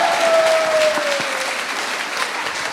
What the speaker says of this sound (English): Need a bigger round of applause than that.